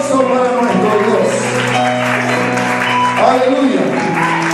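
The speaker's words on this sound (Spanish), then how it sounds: "Fuerte el aplauso para nuestro Dios." Church congregation applause during a worship service, clapping spread beneath sustained music with held organ-like tones, lively and continuous throughout.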